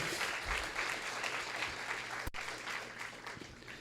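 A church congregation applauding, a steady wash of clapping that sounds fairly distant and soft, with one sharp click partway through.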